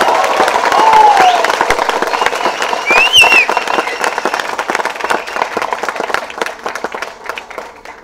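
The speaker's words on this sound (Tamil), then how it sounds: "இந்த வார்த்தைக்கு கைதட்டு மட்டும் கட்டுவீங்க" An audience at a Tamil public speech bursts into loud applause with scattered cheers and whistles, steady clapping that slowly thins out over about eight seconds.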